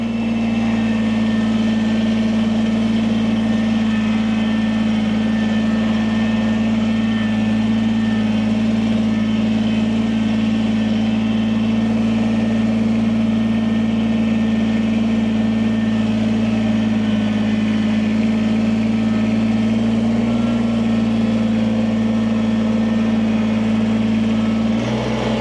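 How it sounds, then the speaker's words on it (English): A tractor fitted with a backhoe sits idling, its engine holding a steady, even drone close by for the whole stretch with no change in pace and nobody talking. "It's about time I get on that tractor again."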